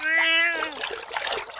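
In an animated Cinderella story, the cat Lucifer lets out a sharp meow while being bathed, followed by splashing and trickling water, loud and close.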